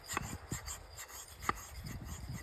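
Slightly abrasive Brasso polish is rubbed by hand onto an SU carburettor piston, making quiet, close, rhythmic rasping strokes with a few sharper scrapes.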